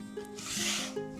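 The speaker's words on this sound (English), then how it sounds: "I'm just going to scrape some of this flour away," Scraper drawn across a floured work surface while clearing flour from around shaped maple walnut scone dough; a soft continuous rubbing, rasping sound, close and moderately quiet, with no talking.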